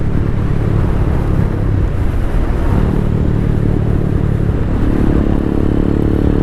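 A Venom X22R motorcycle, a DF250RTS, ridden at night, its engine droning loud and close with constant wind rush, pitch steady and then rising slightly as it pulls harder near the end.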